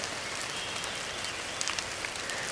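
Light drizzle falling outdoors on a cool, wet day, a steady fine hiss of rain with scattered close drops pattering on surfaces.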